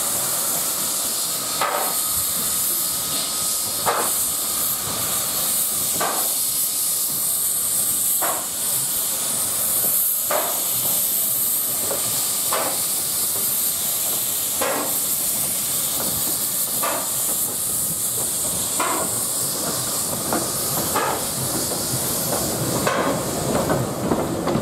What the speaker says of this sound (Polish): Zepchnęła wagony, nie były skręcone i ciągnie z mozołem.